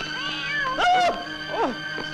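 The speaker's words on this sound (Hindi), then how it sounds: "सर जी, बिल्ली रास्ता काट गई।" A cat meows twice, close and clear, a longer drawn-out cry followed by a shorter one, against a faint background hum.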